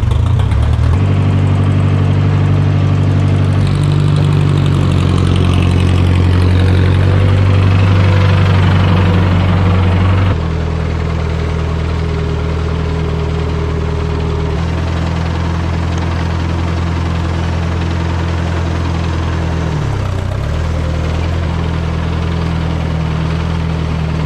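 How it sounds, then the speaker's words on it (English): A 1964 tractor runs a 2021 tiller in a garden, making a loud, continuous mid-pitched engine drone with a rough, knocking undertone, steady throughout with a slight drop in level partway through. "So, 2021 tiller on my 1964 tractor."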